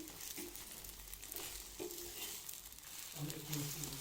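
Steady sizzling of eggs frying in a pan, with occasional stirring and scraping, fairly close and continuous throughout.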